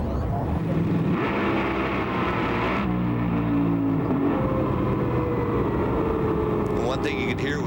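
Drag racing car at the 2005 NHRA Ameriquest Mortgage Company Nationals qualifying, captured on board: a loud, steady engine roar with shifting pitch that climbs as the car gets loose outside the groove, continuous for several seconds.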